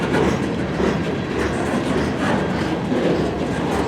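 A long CN mixed freight train rolls past steadily and loudly nearby, its wheels giving a continuous heavy rumble with faint clickety-clack over the rail joints.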